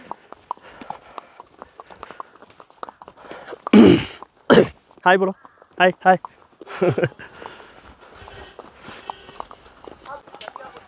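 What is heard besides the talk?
horse hooves clip-clopping as it is led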